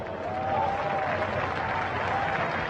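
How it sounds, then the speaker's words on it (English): Crowd applause at a Formula Drift 2015 round at Irwindale, a steady wash of clapping and cheering from the stands, with the voice of a commentator faintly over it. "Hey, round of applause for Masashi Yokoi."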